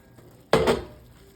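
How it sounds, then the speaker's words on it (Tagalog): Metal lid lifted off a pot of boiling chicken tortilla and black bean soup, a single sharp clatter and scrape that rings briefly and fades over a quiet background. "And then, remove the cover."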